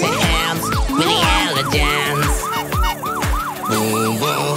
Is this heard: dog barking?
no